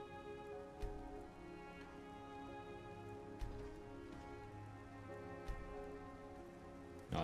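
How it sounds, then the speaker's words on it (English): Steady rain falls in Skyrim, a soft, even patter over a low ambient drone, with a few faint thumps scattered through and no voices. "now it's just a rainy day."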